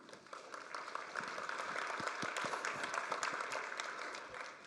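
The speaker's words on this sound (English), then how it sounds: "that is hands down the biggest applause I've ever got for changing a bit of CSS" A conference audience at a technical talk on Kubernetes, Go and gRPC breaks into sustained applause, a steady wash of many hands clapping at some distance for several seconds with no one speaking.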